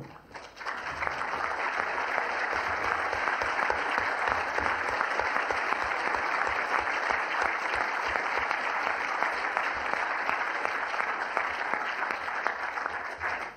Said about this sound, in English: Thank you, but please reserve your applause to the end.